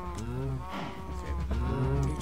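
Several Minecraft cows mooing repeatedly, with two or three drawn-out overlapping moos close by at low volume and no voices.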